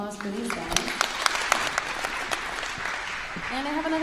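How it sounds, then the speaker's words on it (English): Audience applause for panelists at a university parent and family orientation, a fairly soft patter of clapping with a few distinct louder claps, mixed with voices and talk over it. "one more round of applause for these guys."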